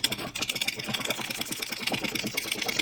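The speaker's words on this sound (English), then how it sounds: "So we're going to try to drain some of this out with our little handy pump" A small handheld pump drains coolant from the radiator of an Infiniti G37, making a rapid buzzing, pulsing mechanical whir that runs steadily and close, with no voices.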